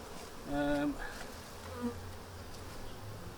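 Honey bees buzz and drone close by while being moved from a nuc into a hive, with a few louder passes rising over a quiet background.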